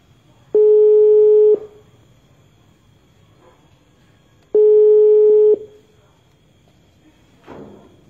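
Two long, steady electronic ringback tones on a phone line for an incoming call to a radio call-in show, each about a second long and separated by a quiet gap, followed by a faint brief noise.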